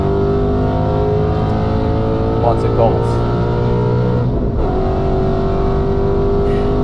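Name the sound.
straight-piped Ford Mustang engine revving on the Nürburgring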